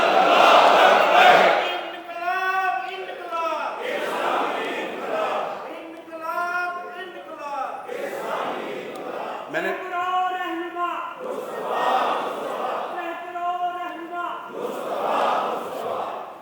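Crowd at a religious political gathering at Mansoora, Lahore, chanting a Takbir slogan in unison, with repeated swelling call-and-response bursts of many voices, loud and close throughout.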